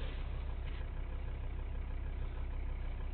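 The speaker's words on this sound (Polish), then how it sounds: "Ale silnik szemrze niczym szalony łoś" A 2014 Volvo V60's engine idles with a steady, smooth low hum, heard close and alone with no talking.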